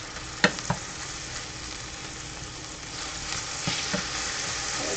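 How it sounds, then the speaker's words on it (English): Ginger hits hot oil in a pan and is swirled around, bursting into a sharp sizzle with a couple of crackling spikes early on, then settling into a steady hiss before flaring briefly again. "I'm going to dump the ginger on. Swirl it around a little."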